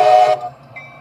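Custom train horn in Train Simulator 2016 gives a loud, brief blast that cuts off sharply, followed by a quieter low rumble and a thin faint tone.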